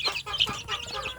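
Native village chickens in a brooding box cluck and squawk in quick, overlapping bursts, close and lively, with several birds calling at once.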